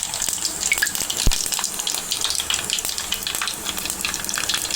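Cumin seeds sizzle in hot oil with mustard seeds for a tempering, a dense close crackle and hiss, with one sharp knock partway through.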